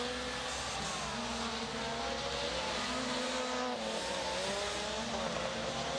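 A rallycross race car works through the joker lap on the inside line, its engine revving up and down steadily over a continuous roar, with rising and falling pitch through gear changes, heard from a middle distance with no one speaking.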